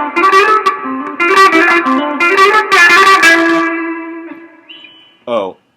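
Electric guitar with effects plays the rhythm part of a song in a guitar lesson, steady strummed and picked chords with a sustained vibrato note near the end, followed by a brief spoken word.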